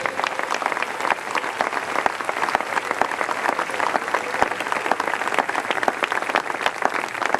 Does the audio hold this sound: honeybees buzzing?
no